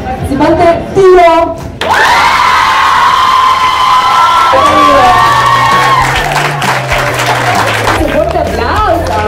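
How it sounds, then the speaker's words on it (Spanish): A large, loud crowd at a K-pop convention event in Mexico cheers, shouts and whoops for a participant, with high excited voices sustained throughout and brief clapping mixed in. "Aplauso para participante Tiro."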